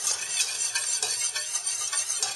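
Steady whisking of a fat-and-flour roux in a pan for a Kentucky Hot Brown sauce, a continuous close scraping swish with soft sizzling underneath and rhythmic strokes, no talking.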